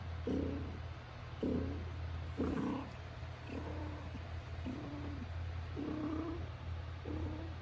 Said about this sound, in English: he's the most talkative cat in the house